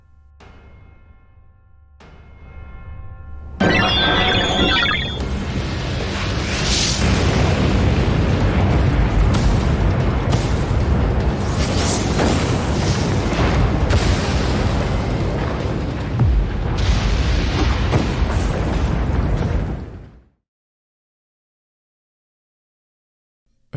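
Arceus's final attack exploding in a Pokémon game: a loud, sustained roaring blast that swells suddenly after a quiet opening, rumbles for about fifteen seconds, then cuts off into silence.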